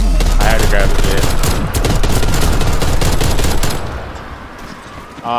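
Rapid video-game gunfire cracks out in a dense, loud burst of automatic shots for about four seconds, then stops abruptly, leaving quieter in-game background.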